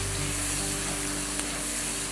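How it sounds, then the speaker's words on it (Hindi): Chopped onion frying in a pan gives a dense, even sizzle close by, steady throughout with no break. "प्याज डालने के बाद इसको आप अच्छी तरह फ्राई करेंगी"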